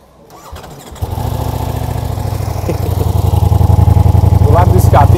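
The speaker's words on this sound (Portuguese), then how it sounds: "Quer ouvir o som? Vou ligar," A Ducati Diavel V4S motorcycle engine turns over and fires up close, then settles into a loud, steady rumbling idle with a couple of small throttle blips.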